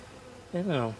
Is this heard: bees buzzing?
yes